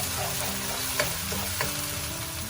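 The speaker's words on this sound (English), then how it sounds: "Just saute till the raw smell goes away." Store-bought chili paste sautés in a pan for an Indonesian-style fish curry, a steady close sizzle and fry with a couple of soft stirring scrapes, no talking.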